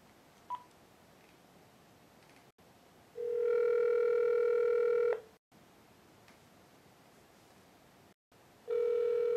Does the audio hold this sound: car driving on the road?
no